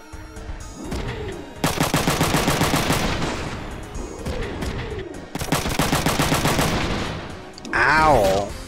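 Rapid bursts of gunfire in the video game Front Mission 3, two long loud volleys of automatic fire separated by a pause, with mechanical whirring sounds between them.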